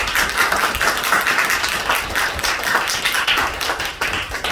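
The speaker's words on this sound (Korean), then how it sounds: "힘차게 격려의 박수 한번." A church congregation at Sunday worship claps energetically for high school seniors, a dense and even burst of applause heard throughout.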